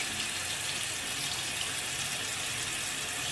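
Warm water runs steadily from a tap while a makeup sponge is rinsed beneath it, a constant close hiss and splash with no talking.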